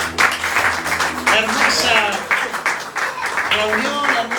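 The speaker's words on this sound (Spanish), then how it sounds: "dale un aplauso al Señor" A church congregation applauding at an evening worship meeting, steady broadband clapping running throughout, with someone speaking over it.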